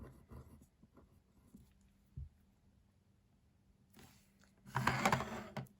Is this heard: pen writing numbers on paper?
yes